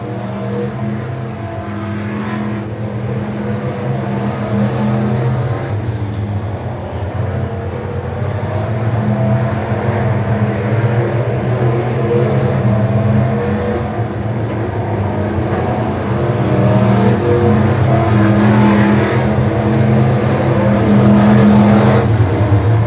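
Race cars roar around a dirt oval at Nevada Speedway in Missouri in a late-lap battle for position, their engines droning loudly and continuously with rising and falling revs as the pack circles.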